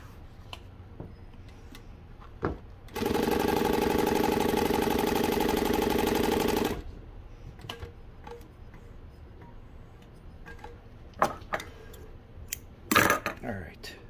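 A Juki DU-1181N industrial sewing machine runs for about four seconds, a steady loud whirring buzz, framed by quiet handling clicks and taps of material before and after.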